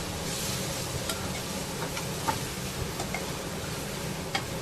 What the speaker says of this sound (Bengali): ভার্মিশালি দেওয়ার পরে আবারও নাড়তে হবে।